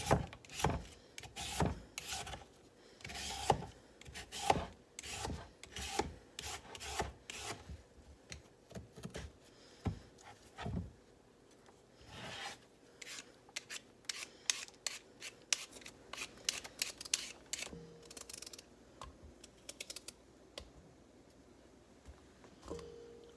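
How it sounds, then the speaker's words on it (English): A knife slices sweet potatoes on a cutting board, producing a quiet series of irregular crisp cuts and taps close by, dense at first and then spacing out. "I'm going to slice them in little slices."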